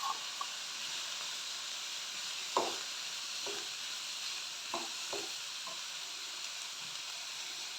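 Bitter gourd and carrot stir-frying in a pan make a steady, close sizzle and hiss, broken by a few soft clicks and scrapes of stirring, with no voices.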